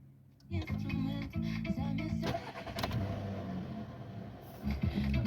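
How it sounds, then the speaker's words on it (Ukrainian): A 2006 Volkswagen Golf 5 with a 1.4 MPI petrol engine and 209,000 km cranks and catches, then settles into a steady idle close by, with a brief rev and some talking over it. "Зараз я заведу автомобіль."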